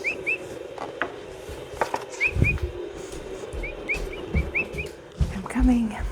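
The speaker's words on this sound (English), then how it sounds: "I'm whistling at the cat." Short, high whistled chirps come in small pairs and groups, soft and close, with faint rustling and handling noise around them.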